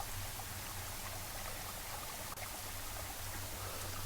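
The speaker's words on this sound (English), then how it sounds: "You hear a quiet sound from the pool below the waterfall." A waterfall pours into a pool in the SpaceVenture video game, a soft, even, continuous rush of falling water with a low steady rumble, quiet and unbroken.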